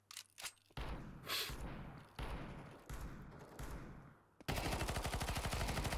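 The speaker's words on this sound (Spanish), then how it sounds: "Sale disparando nuevamente." Gunfire in Counter-Strike 2, first a few sharp isolated shots, then heavy repeated blasts, and finally a loud rapid automatic burst that fills the last seconds.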